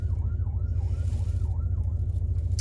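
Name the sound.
emergency vehicle siren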